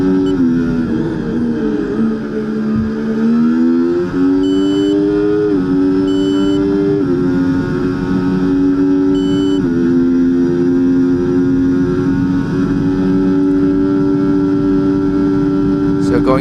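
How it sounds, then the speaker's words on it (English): F1 car engine in EA Sports F1 24 at the Australian Grand Prix, a loud continuous high-revving whine climbing in pitch through upshifts and holding steady at top revs in eighth gear. "you can see that the engine will rev all the way up in 8th gear"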